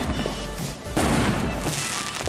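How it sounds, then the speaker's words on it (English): Fireworks burst on New Year's Eve outdoors, a dense crackling roar of distant explosions with a sharper boom about a second in, continuing loudly to the end. "Fireworks!"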